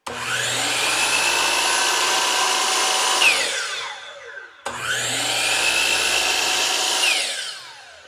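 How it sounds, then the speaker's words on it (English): A miter saw on a solar inverter setup makes two loud, close cuts, each a whining rise of blade noise through the wood that then spins down, with no voices. "I'm going to use the miter saw now on the other leg."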